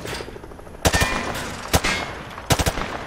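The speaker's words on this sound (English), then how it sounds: "He sprayed bullets all over the damn place." Weapon fire at range targets in Call of Duty Modern Warfare 2: three sharp, loud bursts of shots, a short stutter, a single crack, then a rapid triple, with quieter ambience between.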